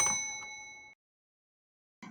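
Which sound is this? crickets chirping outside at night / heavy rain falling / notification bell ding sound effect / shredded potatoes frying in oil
notification bell ding sound effect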